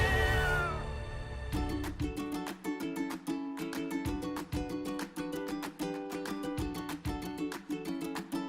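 Benny, a cat living at a fire station, meows in a few rising cries at the start, then rhythmic clattering percussive music takes over and dominates the rest.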